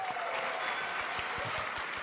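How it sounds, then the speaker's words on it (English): An audience at a PAX East convention gaming panel applauds, with steady clapping from a crowd that sounds somewhat distant and soft, continuing evenly throughout. "round of applause for real to the PAX text making it happen."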